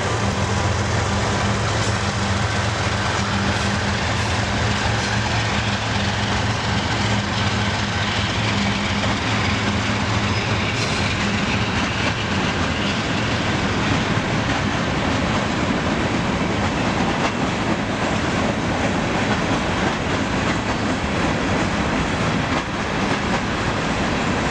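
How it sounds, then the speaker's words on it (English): CN freight train G834 with a BNSF fake bonnet locomotive in second position, passing southbound through Green Valley: a loud, continuous rumble of diesel engines and rolling railcars that stays close and steady throughout. "we caught CN-G834 in Green Valley as it was heading south, with a BNSF fake bonnet in second position"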